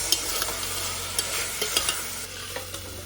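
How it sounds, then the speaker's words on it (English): Mutton is stirred with Kashmiri red chili powder in a hot pan, producing repeated close scraping strokes over a continuous frying sizzle, with no talking. "Let's give it a good mix."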